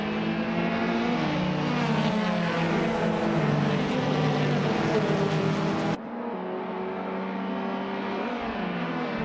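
Cars in a racing video game roar off the line at the start of a race at Ruapuna Park, among them a 2014 Abarth 500 Assetto Corse, with loud layered revving engines that climb in pitch and then drop as the field pulls away.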